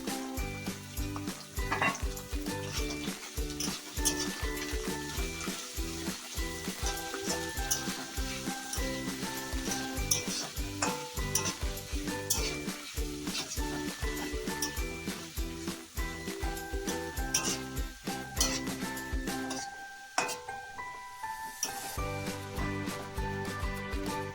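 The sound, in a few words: onions stirred and frying with spices in a pan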